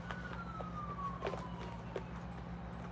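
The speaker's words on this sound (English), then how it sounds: "then we have sirens going on in the back" A siren wails faintly in the background, a thin rising and falling tone behind a steady low hum and scattered soft knocks.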